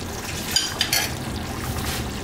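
Half a cup of water is poured into a pot of beef nihari, a faint, brief splash and trickle with a few soft bursts against a quiet kitchen background.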